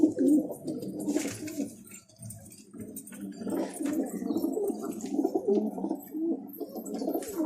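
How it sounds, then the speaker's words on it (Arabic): A Pakistani blue pigeon coos in repeated low, throaty rolling calls, close by and steady, with soft chirps and rustles from other birds in a loft behind it. "هذا الباكستاني الازرق."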